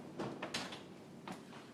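An oven door, preheated to 325 degrees, opens and shuts as a loaf of banana bread goes in, giving a few soft, faint thuds and scrapes in a quiet home kitchen.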